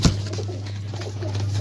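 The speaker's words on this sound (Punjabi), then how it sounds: "ਤੁਹਾਨੂੰ ਇਹ ਵੀ ਚੈੱਕ ਕਰਾਉਂਦੇ ਹਾਂ ਕਬੂਤਰ" Pigeons on a rooftop loft, with soft low cooing under a steady hum. The sound stays moderately loud and continuous throughout and has a brief louder onset at the start.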